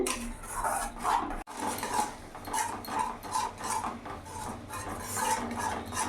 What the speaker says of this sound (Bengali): এবার কিছুক্ষণ কষিয়ে নেব, যতক্ষণ না মশলা থেকে তেল ছাড়ছে।